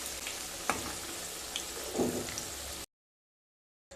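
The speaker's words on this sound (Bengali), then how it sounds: "মেখে রাখা কয়েকটা আলু ভেজে নেব।" Spiced potato pieces fry in hot oil with a soft, steady sizzle and a few light pops, heard quietly before the sound cuts to silence for about a second near the end.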